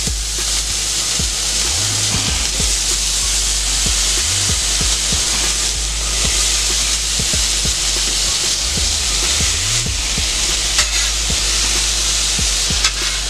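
Potato cubes fry in butter on a steel griddle with a constant loud sizzle, broken by repeated scraping and stirring strokes of a spatula.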